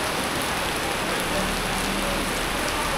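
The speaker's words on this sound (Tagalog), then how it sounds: "Ulan man." Steady rain falls outdoors, a dense, even hiss of drops on surfaces filling the whole stretch without pause.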